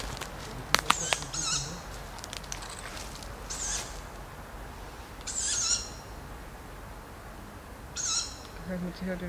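An owl calls at night in an open outdoor area, a few short hoots spaced several seconds apart at moderate distance over faint background hiss, with a brief clatter near the start.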